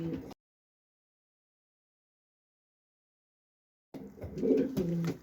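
Roman giant pigeons coo low and soft in short snatches, first briefly, then again after a long silence, close by with no talking.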